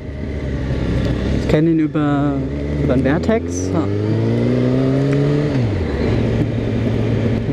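A KTM motorcycle ridden by a companion pulls away ahead on a German touring ride, its engine revving up through rising pitch sweeps under steady wind and road roar, with someone talking over it.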